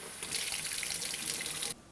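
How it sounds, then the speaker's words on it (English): Cold water runs steadily from a kitchen tap over boiled eggs in a sink, a close, bright splashing rush lasting under two seconds before it cuts off abruptly. "you always want to run them under cold water so you can handle them"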